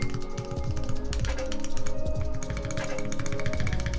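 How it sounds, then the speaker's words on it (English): Space bar on a RAMA U80 mechanical keyboard with T1 tactile switches, pressed repeatedly alongside other key taps in a dense, clacky run of close, fairly loud keystrokes with no talking. "Ooh, listen to that space bar. Yeah, that sounds really good."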